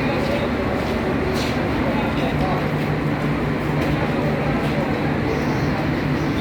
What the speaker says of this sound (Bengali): দেখতেই পাচ্ছেন অনেক বড় ট্রেন আর কি এটা